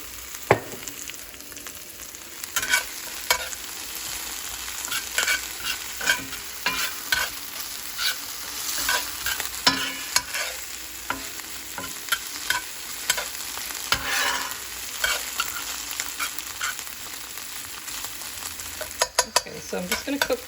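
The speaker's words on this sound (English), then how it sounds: "I'm just going to cook this until the onions are really kind of cooked down a little bit" Onions and tomato paste fry in olive oil, a steady close sizzle broken by frequent scraping stirs and clicks from a utensil against the pan.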